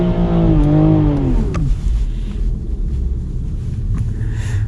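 Stage 1 Evolve-tuned Toyota A90 Supra revving hard with wheels spinning on a wet drag strip, the engine note climbing then dropping into a loud, rough rumble, close and alone.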